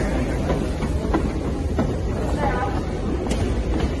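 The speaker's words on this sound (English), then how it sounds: "It's the London Underground." A London Underground train rolls along with a steady rumble and faint clickety-clack under a murmur of background voices, heard from inside or near the carriage.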